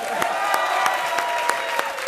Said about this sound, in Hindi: जोड़ी ब्रेकर के लिए एक बार जोरदार ताली बजाओ.